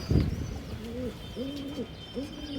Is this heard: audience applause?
no